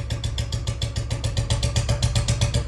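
A Royal Enfield Bullet motorcycle fitted with a heavy sound kit idles with a loud, deep, rapid thumping exhaust beat, steady and close, with uneven irregular firing pulses suggesting misfiring.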